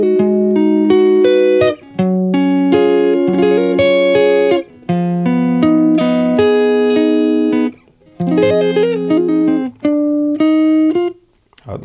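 A guitar plays the intro of a song, with clear sustained chords and single notes in short phrases and brief pauses between them, loud and up close.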